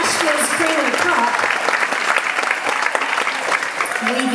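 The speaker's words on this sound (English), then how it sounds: "would y'all give the band a round of applause" A benefit concert crowd applauds the band of Nashville session players, a loud dense roar of clapping with cheers mixed in, sustained across the whole stretch.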